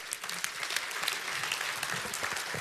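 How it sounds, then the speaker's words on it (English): A large audience claps enthusiastically at a motivational seminar, a dense, even burst of applause from many hands close by with no talking over it. "Give everybody a hand."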